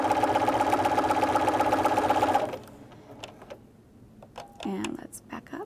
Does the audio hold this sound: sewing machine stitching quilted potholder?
yes